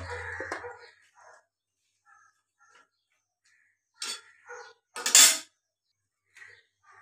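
Bottle gourd stems dropped into a cooking pot of dal, with sharp metallic clanks and scrapes of utensils against the pot, coming in short isolated bursts separated by quiet.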